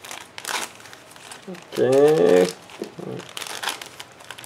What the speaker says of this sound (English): Next we have huge plastic bag with large frames. So let's open it,